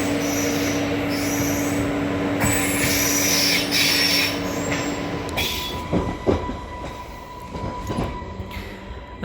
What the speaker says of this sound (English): any second now my train should be arriving around that corner.